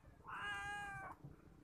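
A single drawn-out cat meow, clear and tonal, heard faintly against a quiet background near a football field.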